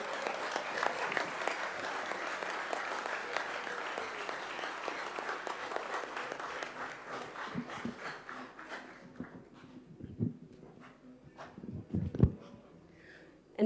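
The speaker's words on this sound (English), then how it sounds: "Can we offer a round of applause as their Royal Highnesses leave?" An audience at a UN high-level intergenerational dialogue applauds as the Royal Highnesses depart. The clapping is fairly distant and thick at first, then thins to scattered claps with a few louder knocks near the end.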